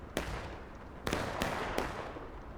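Artillery booms from the video game War of Rights, a Civil War battle: three sharp, loud blasts spaced about a second apart, each followed by a rumbling tail over steady battlefield ambience.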